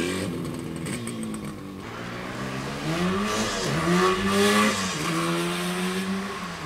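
A 1974 Yamaha RD350 two-stroke motorcycle revs hard through a power wheelie, its close, loud engine note sweeping up and down in pitch several times with a raspy, buzzing edge.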